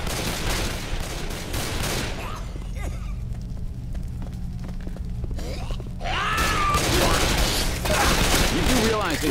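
Rapid gunfire bursts from the Left 4 Dead game, loud bursts of shots at the start and again near the end with a quieter lull between, while players talk over it.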